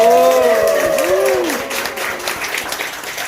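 An audience at a lecture-concert applauds, a steady crowd clapping with a sung or sustained voice gliding over it at the start before the clapping carries on alone.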